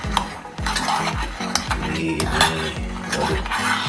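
A utensil stirs tahu tek with petis sauce in a pan, giving repeated close scrapes and clinks of metal on the pan bottom over a faint sizzle, with no talking.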